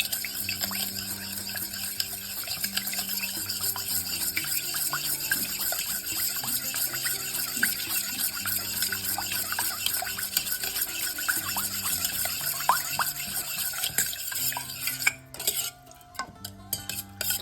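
Pancake batter with sugar is beaten briskly in a bowl, a steady continuous scraping and clattering of utensil against the bowl that runs throughout, close up and without speech.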